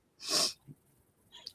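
A single loud, breathy sneeze bursts out close by, followed by faint sniffing and quiet noises.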